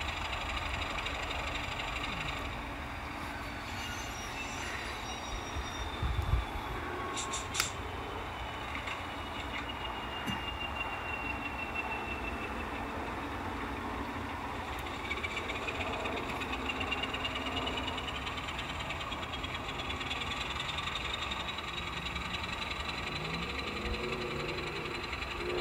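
A garden-scale model railroad train switches covered hopper cars at a clay plant siding outdoors, giving a steady low motor drone and rail rumble. A few brief clunks are heard, with no talking.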